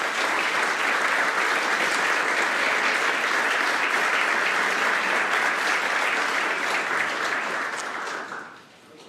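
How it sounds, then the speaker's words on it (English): A lecture audience applauds Draper scholars with sustained, even clapping from many hands, loud and continuous for about eight seconds before tapering away at the end. "perhaps we could give you a round of applause"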